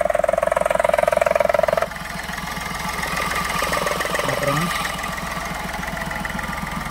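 The diesel engine of a 2012 Chevrolet Beat idles close by with a steady rhythmic throb, after a brief high tonal whine at the start, with no talk over it.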